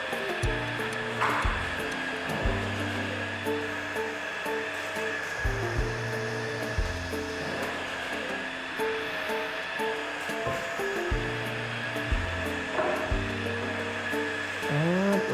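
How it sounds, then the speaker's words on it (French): A household vacuum cleaner runs with a steady, loud whooshing roar for the whole stretch, while a lower tonal pattern shifts underneath at irregular moments and nobody speaks. "Il va falloir compter sur cet aspirateur."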